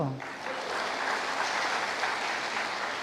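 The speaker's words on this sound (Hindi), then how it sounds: "चलो भाई लोग ताली बजा दो" An audience at a Brahma Kumaris spiritual talk claps together in a dense, continuous wash of applause lasting a few seconds.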